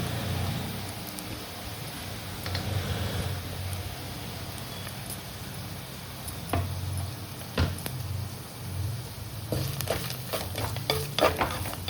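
Grated coconut sizzles softly in a clay pot with a steady crackle, broken by occasional scrapes and knocks of stirring, close by.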